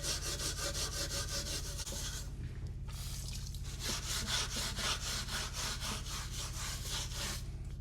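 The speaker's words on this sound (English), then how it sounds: "It's softened that too, so that should just come off with a bit of a scrub" Brush scrubbing softened white paint and grime off rusty antique metal, fast continuous rasping strokes close up, with a short pause partway, no speech.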